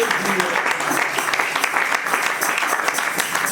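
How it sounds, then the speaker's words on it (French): A church congregation breaks into applause, a full, even wash of many clapping hands that stays loud and steady from start to finish, with a voice faintly mixed in beneath it. "Est-ce qu'on peut acclamer pour ce Dieu?"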